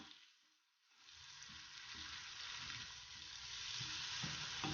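Tomatoes and spices added to ginger, garlic and onion frying in a pan for a mustard greens dish, a quiet start giving way to a steady, even sizzle that grows slightly louder and holds throughout.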